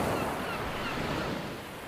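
Ocean waves washing onto a beach, a continuous hiss of surf with wind-like noise, fairly quiet and steady with no voices.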